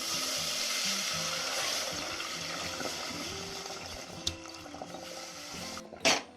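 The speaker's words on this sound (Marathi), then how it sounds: "हळूहळू याच्यात आपण दूध ओतायचं। हे दूध मी गरम करून घेतलं।" Heated milk is poured slowly into a pan of caramelised sugar for homemade kulfi, making a steady hissing sizzle and liquid rush. It fades gradually, and a couple of brief utensil knocks come near the end.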